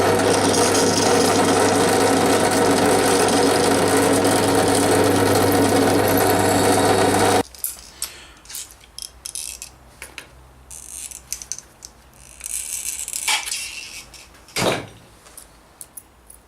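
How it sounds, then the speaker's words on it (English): A pillar drill bores a hole through a metal armour buckle escutcheon, its motor droning steadily and loudly up close for several seconds before cutting off abruptly, leaving scattered light clicks and handling knocks. "I take it over the pillar drill, drill a hole, and we're done."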